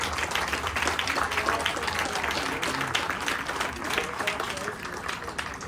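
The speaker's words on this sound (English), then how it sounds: "Big round of applause." An audience at a farewell event for TriMet's Type 1 MAX light rail trains claps for the rail maintenance team, a dense, sustained round of applause with people talking over it.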